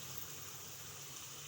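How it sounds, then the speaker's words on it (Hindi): Water is poured into a pot of fish pulao gravy, a steady, even rush of liquid with no breaks, heard alone without voices. "इसमें पानी शामिल कर दूँगी।"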